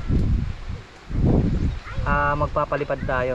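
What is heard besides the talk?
wind at a beach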